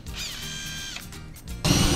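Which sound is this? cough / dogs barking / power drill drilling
power drill drilling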